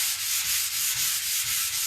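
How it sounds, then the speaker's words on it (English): Steady abrasive sanding hiss from a buffer pad on painted steel, with a regular back-and-forth rhythm, close and fairly loud, no voices. "So if I take my sanding buffer pad,"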